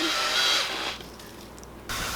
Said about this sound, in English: as long as you don't get too fast with the drill, everything stays where it's supposed to